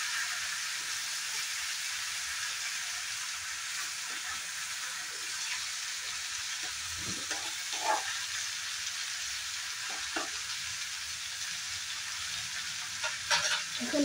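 Cabbage curry fries in a pan with a soft, steady sizzle and occasional spoon scrapes and clinks, quiet and close, with no voices.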